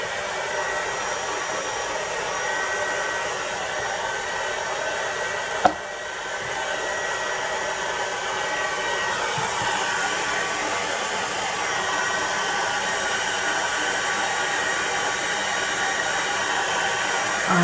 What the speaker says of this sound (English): So I'm just going to get my heat gun out and melt the embossing powder.